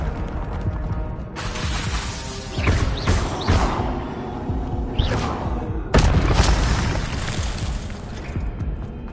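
A fire spell cast in a Hogwarts video game, with loud whooshing bursts and booming impacts flaring up at intervals over a steady rumble, without talk.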